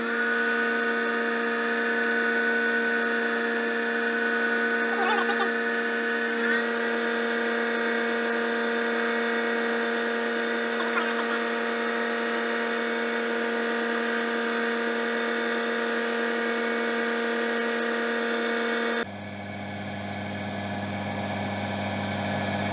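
A power tool polishes the edge of a leather knife sheath, a steady, close high-pitched motor whine that holds for nearly twenty seconds before dropping to a lower hum.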